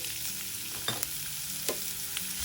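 Finely chopped onion fries in a pan after asafoetida goes in, a steady close sizzle with two brief scraping stirs.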